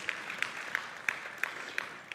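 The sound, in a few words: audience applause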